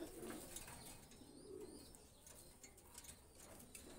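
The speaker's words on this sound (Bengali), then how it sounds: "এই হলো ফকিরগুল কবুতর" Soft, low cooing from Fakirgul pigeons repeats faintly in a quiet setting, with a few light chirps mixed in.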